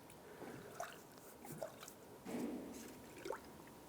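Coolant bubbling and gurgling as universal coolant is poured into the radiator of a 1997-2001 Lexus ES 300, with soft, close-up liquid glugs and drips that swell in a few brief bursts.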